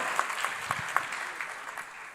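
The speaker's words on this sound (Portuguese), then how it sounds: "Pode aplaudir o Senhor." Brief congregational applause during a church service, scattered sharp claps within a soft steady patter that fades gradually.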